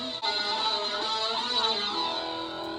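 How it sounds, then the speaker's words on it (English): Heavy rock guitar chords ring out with thick distortion and echo, a sustained droning wall of sound that holds steady and then shifts slightly toward the end. "we have this very heavy and full rock presence with so much distortion and dissonance, even sort of reverb or this echo that's placed over each chord"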